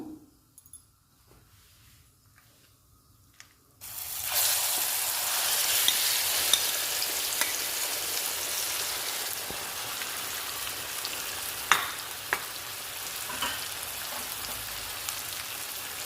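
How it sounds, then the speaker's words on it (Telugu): Coconut chutney is tipped into a hot tempering in a pan, breaking a quiet start into a loud, continuous sizzle that lasts to the end, with occasional sharp pops and stirring clicks. "తాలింపులో కొబ్బరి పచ్చడిని వేయించుకుందాము"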